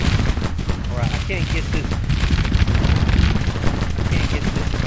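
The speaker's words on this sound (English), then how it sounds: "Let's command the entire army to start shooting long range." Massed musket volleys from an army firing at long range in Grand Tactician, a Civil War strategy game: dense, continuous crackling gunfire rolls without pause while someone talks over it.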